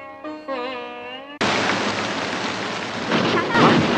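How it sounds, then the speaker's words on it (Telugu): A heavy rainstorm with thunder crashes in abruptly after a short tonal, voice-like sound, then continues as a loud, dense roar of rain and rumbling for the rest of the scene. "వర్షం వస్తుంది"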